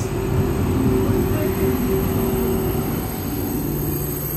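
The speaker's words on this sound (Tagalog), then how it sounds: "Ayan na ang tren." A KTX high-speed train pulls into a station in Seoul, a loud, close rumble of wheels on rails with sustained squealing tones running steadily throughout.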